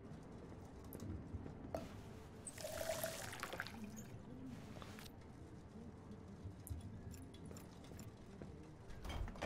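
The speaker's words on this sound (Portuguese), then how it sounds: "Enchemos com água." Water is poured into a glass in the video game Twelve Minutes, a soft, short trickle of about a second rising over a quiet room background.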